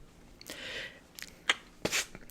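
A single faint sneeze with a breathy burst, followed by a few soft rustles in a quiet room.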